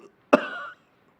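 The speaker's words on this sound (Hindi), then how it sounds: "हर बात हर वक्त खांसता रहता था" One short, harsh cough from a man suffering from lung cancer, a sharp burst trailing into a rasping exhale, close and alone in quiet surroundings.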